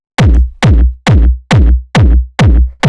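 Seven punchy, heavily distorted hard techno kick drums, unfiltered and bright with a sharp top end, hit at a steady pulse, each with a booming low tail, loud and alone.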